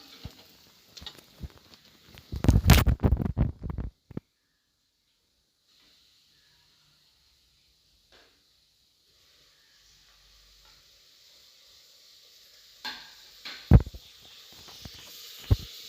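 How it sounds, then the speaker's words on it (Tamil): Tomatoes and ginger garlic paste for chicken gravy sautéing in a pan, a burst of stirring and clatter early on, then a long near-silent stretch of faint sizzle before more stirring near the end. "இப்போ வந்து நம்ம அதில் இஞ்சி பூண்டு பேஸ்ட்டும் தக்காளியும் ஆட் பண்ணி நல்லா வதக்கிக்கலாம்."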